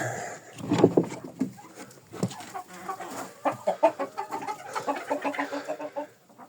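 Young hens clucking in a henhouse in winter snow, in short, uneven bursts, close by and fairly loud, with scattered squawks running through the whole stretch.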